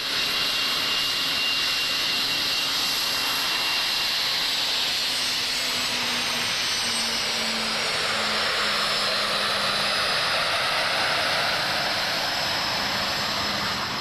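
An aircraft engine gives off a continuous loud roar with a high whine layered over it. The sound holds nearly even for the whole stretch, and no voices are heard.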